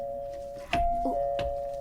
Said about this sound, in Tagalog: Naay nag-doorbell riming.